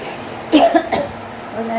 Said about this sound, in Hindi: हल्की सी खांसी हो रही